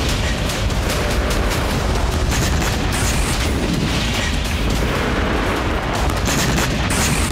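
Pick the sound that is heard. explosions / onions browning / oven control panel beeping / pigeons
explosions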